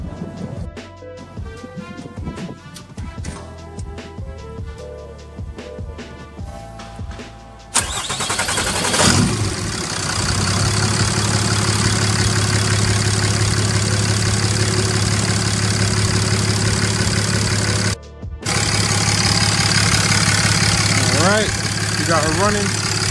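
A Cummins 6.7 diesel engine in a pickup cranks briefly and fires up after some clattering handling noise, then settles into a loud, steady close idle with a brief dropout partway through.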